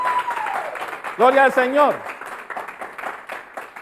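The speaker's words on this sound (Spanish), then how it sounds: "Dale un fuerte aplauso al Rey." Church congregation clapping through a Sunday service, a steady wash of applause under a voice that rises in a sung or chanted praise before fading back into the clapping.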